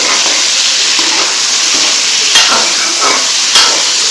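Meat frying in hot ghee, about half a kilo of mutton browning for a Peshawari gravy, gives a steady close sizzle and hiss with a few louder crackling bursts and no talk.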